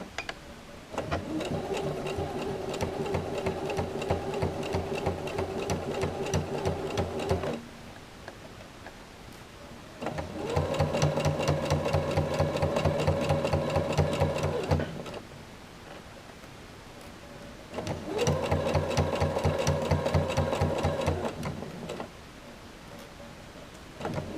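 A sewing machine stitches a pocket seam at a standard 2.5 stitch length, running in three steady bursts of rapid ticking whir separated by short quiet pauses, close and clear with no talk.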